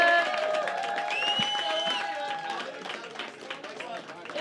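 A comedy club crowd applauds and cheers for a comedian, dense clapping with whoops filling the room, then gradually thinning as scattered claps trail off.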